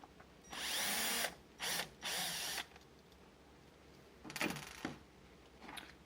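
A cordless drill or screwdriver backs out a screw on a New Idea charging bar during a spring change, three short close whirring bursts followed by two fainter ones, no talking.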